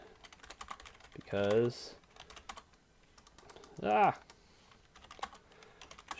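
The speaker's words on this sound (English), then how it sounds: "my typing is off again today" Rapid clicking keystrokes on a computer keyboard run steadily up close, with someone briefly speaking twice over the typing.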